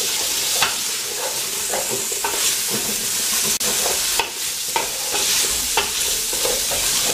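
Veal and a bouquet garni brown in a saucepan for veal Marengo, giving a loud, steady sizzle broken by the scrape and clatter of stirring.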